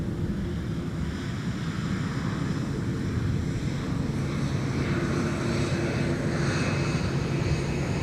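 Sun Country airliner taxiing past at MSP airport, a steady loud jet engine rumble and whine mixed with wind buffeting on the microphone, swelling slightly as it rolls nearby.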